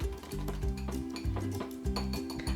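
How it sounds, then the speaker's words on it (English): Okonomiyaki batter with an added egg being whisked in a bowl, with steady rhythmic scraping and clinking against the sides, close and continuous over background music. "Let's keep mixing until the okonomiyaki batter is nice and smooth."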